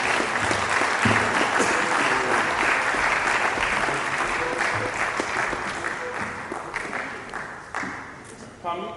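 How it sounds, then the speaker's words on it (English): A conference audience at a town-and-gown stakeholders roundtable applauds to welcome a speaker, with sustained, dense clapping filling the room that eases slightly toward the end. "please join me with a resounding round of applause"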